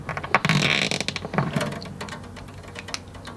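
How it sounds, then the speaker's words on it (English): A string winder levering bridge pins out of an acoustic guitar, giving a series of close, sharp plastic clicks, pops and scraping knocks in an irregular rhythm, with no talk. "Now we're going to use our string winder tool, which has a little groove in the back. We can pop out these pins."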